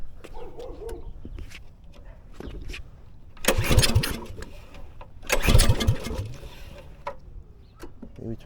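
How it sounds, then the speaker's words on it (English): A small minibike engine is cold-started: two loud sputtering bursts as it tries to catch, with quieter rumbling and clicks between them and voices talking nearby. "Cold start for you boys."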